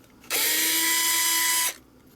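An electric screwdriver, a Fanttik NEX L1 Pro, drives a screw in one close burst, a steady high whine lasting about a second and a half before cutting off.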